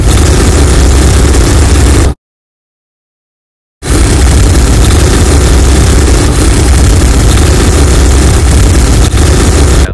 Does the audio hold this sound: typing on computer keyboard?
no